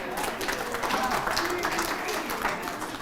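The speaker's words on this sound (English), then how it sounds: "How about a round of applause here?" An audience applauds in a hall, a dense, even wash of clapping from many hands that holds steady for a few seconds, with voices mixed in.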